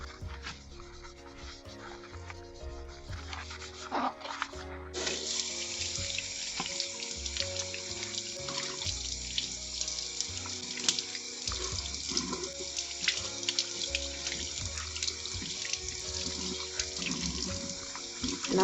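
A tap runs steadily into a sink as something is given a quick wash, the water noise loud and continuous, turning up fuller after a few seconds and rushing on for the rest of the stretch.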